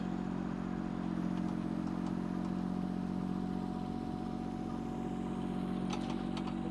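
A Kubota U10 mini excavator swings its upper structure at half throttle, giving a steady, close engine drone with a faint mechanical clatter near the end.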